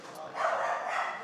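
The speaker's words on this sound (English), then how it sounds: "Dog in the background." A dog barks somewhere in the room behind a gaming session. Its muffled, yappy bursts rise in the middle of the clip over a steady background.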